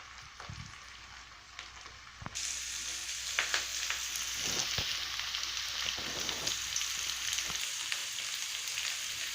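Onions for puri masala frying and being stirred in a pan, a steady close sizzle with occasional scrapes of a spoon, the hiss rising and brightening partway through and continuing alone without talk.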